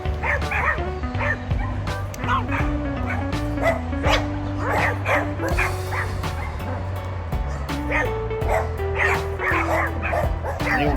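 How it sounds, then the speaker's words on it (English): West Highland White Terrier dogs bark and yip repeatedly and close by, several dogs overlapping in a busy, continuous chorus with some whimpering mixed in. "Bessie and Bentley both barking."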